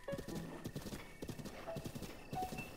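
Several horses gallop in the video game Zelda: Breath of the Wild, producing a rhythmic, fairly faint clip-clop of hoofbeats with a brief whinny mixed in.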